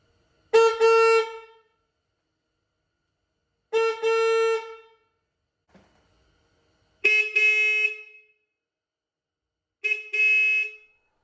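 A Sonicshield car horn from Eagle Lights sounds four times. It gives loud, brassy, close honks of about half a second each, with steady pauses between them.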